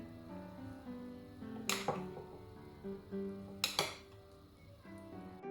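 A whisk beats cocoa mixture into chocolate cake batter in a bowl, giving soft, irregular clinks and scrapes, with two sharper metallic knocks against the bowl rim, all quiet and close.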